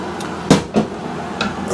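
The spindle is drawn out of a leaking, dripping tap in a few short, close metallic knocks and scrapes, two stronger clicks followed by a fainter one.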